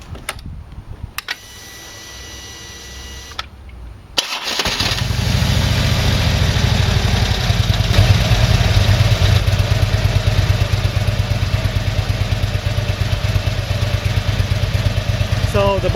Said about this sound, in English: So the bike is running.